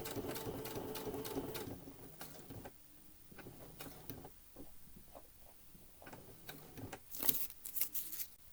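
A home sewing machine stitches scout patches with standard thread in short bursts, a close, quiet mechanical chatter strongest at the start, followed by scattered clicks and handling sounds and a few sharp taps near the end.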